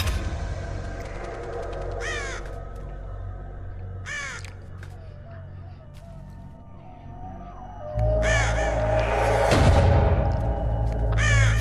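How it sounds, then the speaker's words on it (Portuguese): A crow in Metal Gear Solid: The Twin Snakes caws in several separate, evenly spaced calls over a low game soundtrack, with a louder rush of sound near the end. "O corvo é o juiz da briga lá"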